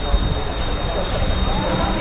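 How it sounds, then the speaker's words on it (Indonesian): Steady rain falls in a dense, close wash of patter on surfaces, continuous throughout, with some rumble and handling noise mixed in. "Hujan, tiba-tiba hujan terus."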